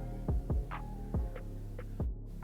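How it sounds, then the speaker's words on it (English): A small air compressor for airbrushing hair color runs in a barbershop, giving a steady droning hum broken by heavy, throbbing low thumps at uneven intervals. "this is the part you've been waiting for, the air compressor"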